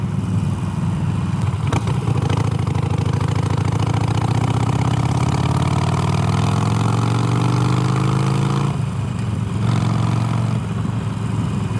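A Harley-Davidson Iron 883 motorcycle fitted with a new aftermarket exhaust rumbles loud and close, its deep engine note rising steadily in pitch as it accelerates, then dropping back to a lower throb.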